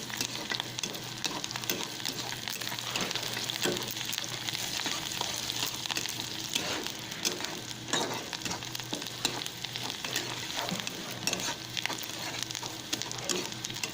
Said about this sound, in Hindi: अच्छी तरह से हिलाएंगे लाल होने तक प्याज